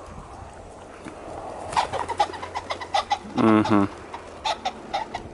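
Birds call in bursts at a pheasant farm among the brooder and flight pens, with a low cooing run and clucking notes repeating across several seconds; a person murmurs briefly.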